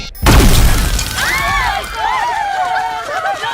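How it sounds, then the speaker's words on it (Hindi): A loud, sudden blast in a film scene hits at the start, followed by rumbling debris and a lingering roar with scattered whistling, high-pitched tones. "अब धमाका होगा"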